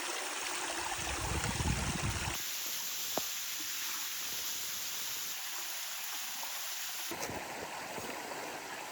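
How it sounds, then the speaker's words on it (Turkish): Water flows and trickles from a spring or stream at a campsite on Gökçeada island, a steady close rushing wash with a brief bump and changing tone partway, no talking. "Buradan da su akıyor."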